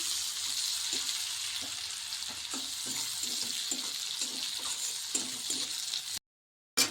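Onions frying in a pan for a bhetki fish curry, a soft continuous sizzle with regular light scrapes of stirring, quiet and close, then a brief cut to silence near the end.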